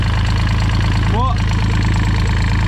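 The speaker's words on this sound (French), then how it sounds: "Donc je viens de démarrer le moteur." A sailboat engine just started, idling with a loud steady low throbbing chug that runs throughout, while someone speaks a single word over it.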